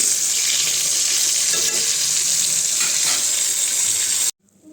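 Oil sizzles loudly and continuously as food fries close by, then the sound cuts off abruptly near the end.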